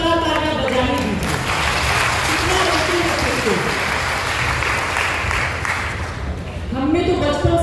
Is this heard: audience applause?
yes